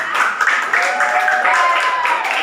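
A classroom of students claps for a group after its presentation, a steady and fairly loud wash of applause with voices calling out over it.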